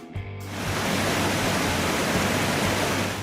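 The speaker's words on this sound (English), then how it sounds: "it is the second highest waterfall in the United States and the 8th in the world" Pu'ukaoku waterfall in Hawaii, one of the highest in the United States, roars as a steady, loud broadband rush of falling water that builds within the first half second and holds unbroken.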